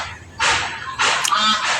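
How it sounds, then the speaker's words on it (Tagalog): Domestic geese honk loudly nearby at ducks in two harsh bursts, one after a short gap, the second longer and more insistent. "So pasensya na, Kanter, maingin na naman yung ating mga gansa"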